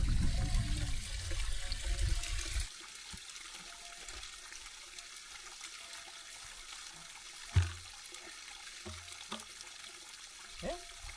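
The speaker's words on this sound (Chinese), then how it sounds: "哦呦，终于看到流动的水了！" A flowing mountain stream on a high ridge, rushing loudly up close at first, then dropping to a quieter, steady trickle with a few brief splashes and knocks.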